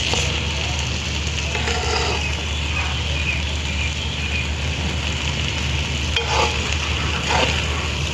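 Suji halwa being stirred and fried in a pan, with a continuous close sizzle and scraping spoon strokes throughout, steady and fairly loud.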